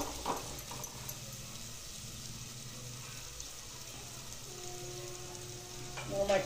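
Masala spice paste sizzling and frying in a pan while being sautéed for matki (sprouted moth bean) rice, a steady soft crackle with faint stirring scrapes, fairly quiet and continuous.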